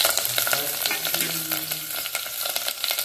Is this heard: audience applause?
no